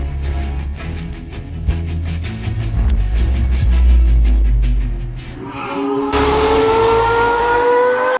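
A race car's engine roars loudly and steadily during an overtake, a deep rumbling drone that gives way to a higher, rising whine as the car pulls past.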